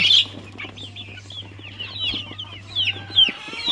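Three-month-old chickens for sale near Parappanangadi in Kerala cluck and chirp repeatedly at close range, with a steady low electrical hum running underneath.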